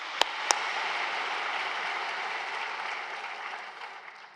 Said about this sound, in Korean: 박수해 주시겠습니다.